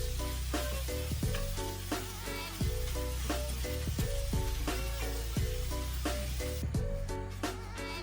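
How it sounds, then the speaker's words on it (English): Salmon and shrimp pasta ingredients sauté in a pot, giving a steady, close sizzle that runs the whole time beneath rhythmic background music. "We're just gonna allow this to saute for a bit."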